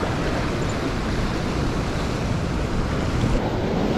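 A steady, loud roar of ocean waves and surf with wind rushing across the microphone, continuous throughout.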